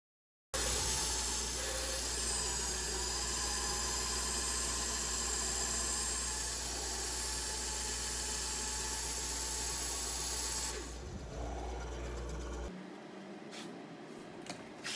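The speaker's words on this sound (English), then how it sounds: "next I'm cutting the back legs, and then you'll see me cutting some of the back supports" Continuous loud power saw cutting the back legs of a wooden dining chair, a steady whining roar that drops away near the end.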